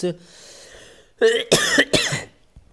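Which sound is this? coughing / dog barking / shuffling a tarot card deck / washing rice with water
coughing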